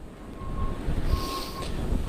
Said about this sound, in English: it's pretty remarkable to feel the power of these winds